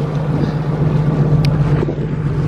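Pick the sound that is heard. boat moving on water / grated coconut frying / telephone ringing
boat moving on water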